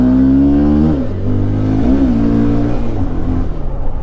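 A motorbike engine revs hard and close, its pitch climbing and dropping in a few loud surges over a steady rumble, with no talking.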